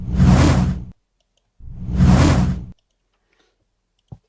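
Two swelling whooshes build up and cut off abruptly, a reversed punch sound effect, followed by silence and one faint click.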